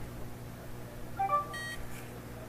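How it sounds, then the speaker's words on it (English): An NFC credit card reader at a hacking conference demo gives a short electronic beep followed by a brief higher-pitched bleep, faint over a quiet room hum. "hopefully the LEDs on this reader will light up and it'll beep."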